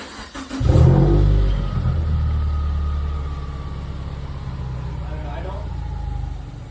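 A Subaru WRX with a catback muffler delete barks into a loud rev, then settles to a deep, rumbling idle that drones on while a voice speaks faintly nearby.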